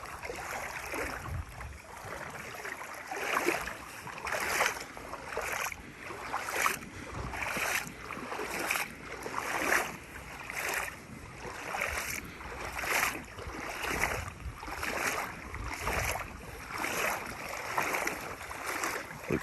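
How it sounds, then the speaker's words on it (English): Water sloshing in a steady rhythm of splashing surges as someone in waders wades step by step through a creek, fairly close with no talking. "they like hearing the water as I walk through it kind of slosh in the background"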